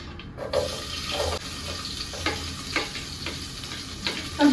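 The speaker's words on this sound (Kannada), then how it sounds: "ಸೊ ನೆಕ್ಸ್ಟು ಈರುಳ್ಳಿ ಹಾಕ್ತಾ ಇದ್ದೀನಿ." Onions frying in a mix of ghee and oil for white chicken pulav, with a steady close sizzle and intermittent scraping stir strokes, no talk.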